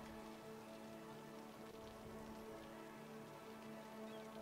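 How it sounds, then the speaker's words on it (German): Rain falls in the city-building game Cities: Skylines as a steady, soft patter over a low background hum with faint tonal lines. The sound stays quiet and even throughout, with no talk. "dieser Regen stört gerade so richtig"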